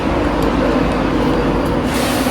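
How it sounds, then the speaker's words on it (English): A loud, steady mechanical roar from the cooling fans of an LNER Intercity 225 locomotive at York station, broadband and unbroken, close by. "the sound of the fans inside the locomotive will absolutely assault your ears"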